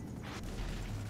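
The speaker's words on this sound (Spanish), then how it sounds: "¡Nos han disparado con cohetes!" A rocket strike explodes against a helicopter in GTA Online, a sudden boom rising over ongoing low engine rumble, followed by a sustained roar.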